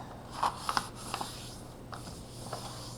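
A sheet of origami paper is creased and folded by hand for a lily, giving a few soft crinkles and sharp little snaps close up, then quieter rubbing over a low steady hum.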